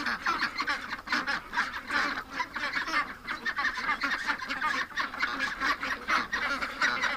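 A flock of ducks in a yard calls continuously and fairly close, a busy overlapping chorus of honking quacks running throughout, with a dog sitting among them and no talking.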